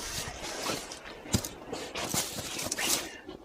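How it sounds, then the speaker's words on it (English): Bolts being tightened by wrench on the steering assembly of a Pengor Penguin: close metallic clicks, ratcheting taps and light scrapes in an irregular rhythm. "I'll take the grease off my hands and tighten those bolts back up"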